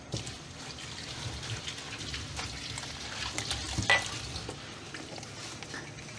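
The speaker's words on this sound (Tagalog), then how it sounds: "Lagyan na po natin ng tubig" Water poured into a pot of mussels while cooking, a continuous splashing, trickling wash with faint sizzling and a brief clink of the pot, close and steady.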